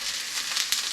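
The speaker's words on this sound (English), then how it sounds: "I'm just going to saute it. I've got a nice hot pan here with some olive oil" Broccoli sautéing in a hot pan of olive oil gives off a steady, bright, close sizzle with a couple of small crackling pops, with no voices.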